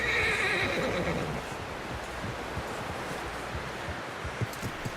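A horse in Red Dead Redemption 2 lets out a loud, shrill whinny at the start, fading after about a second into a steady rustling, trampling background with scattered soft thuds.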